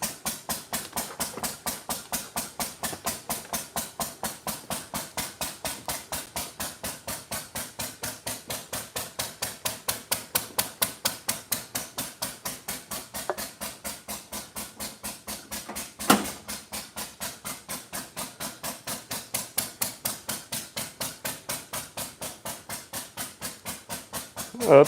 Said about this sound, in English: That thing's just chugging away. Pretty happy with how good it's running after sitting for so long.